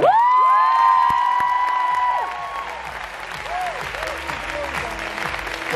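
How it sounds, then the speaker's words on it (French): An audience at a Guy Demarle convention in La Rochelle bursts into applause and cheering, with loud shouts and whoops at the start easing into steady, dense clapping that carries on to the end. "Je vous demande d'applaudir Marcotte."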